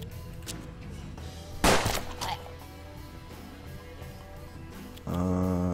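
A single sharp gunshot fired in the Hard West video game, a loud broadband crack near the middle of the clip, set against a steady game music and ambience bed with a brief tonal swell at the end.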